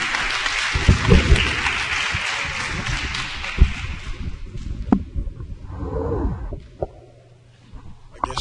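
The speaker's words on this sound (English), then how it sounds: "let's give a round of applause" Audience applause at a radio show event, a dense burst of clapping that starts loud and thins out over several seconds, ending in a few scattered claps.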